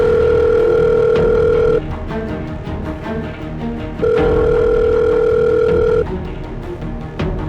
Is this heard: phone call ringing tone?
yes